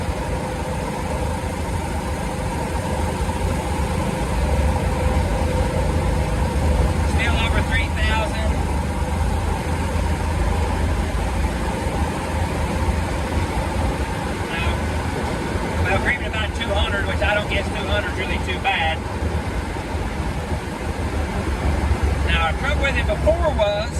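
A car engine with a carburetor fitted with bigger jets hums steadily at around 2,200 RPM while driving, a continuous low drone with road noise, and someone talks over it at times.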